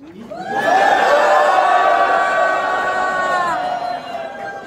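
A crowd at a Reform Party rally for the 21st presidential election shouts a campaign slogan in unison, a loud sustained roar of many voices that holds for several seconds before fading.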